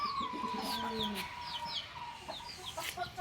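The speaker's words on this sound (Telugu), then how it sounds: "ఇవి చూడండి, ఇవన్నీ కోళ్ళు అన్నమాట." Chickens clucking in a backyard coop, a few birds making short rising calls and soft clucks at a moderate distance, with quiet ambient noise between calls.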